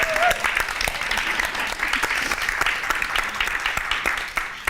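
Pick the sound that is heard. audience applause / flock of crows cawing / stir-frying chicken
audience applause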